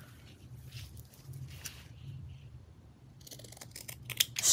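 Scissors trim the edge of a fabric envelope in a few quiet, close snips over faint room noise, followed by a brief louder rustle of handling at the end.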